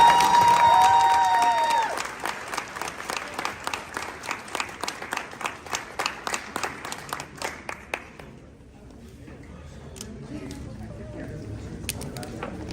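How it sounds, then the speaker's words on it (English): Audience applause at the "Our Choice" town hall: loud clapping begins with a brief tone, then continues as a run of distinct, evenly spaced claps before fading to a quiet murmur after about eight seconds. "Again, one huge round of applause."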